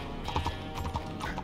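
Rhythmic clip-clop of horse hooves at a steady gait, fairly close, with a soft game-like background ambience.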